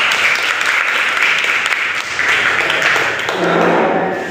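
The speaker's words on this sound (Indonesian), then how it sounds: "Kita beri aplaus biar semangat." Classroom applause for a student group going up to present, a loud, dense, steady clapping that fills the room throughout.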